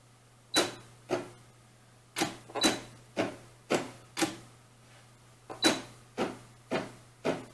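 An embroidery machine stitches thread along a bee design for a doll's winter cap, giving a steady series of sharp mechanical clacks roughly twice a second over a low constant hum, with no talk.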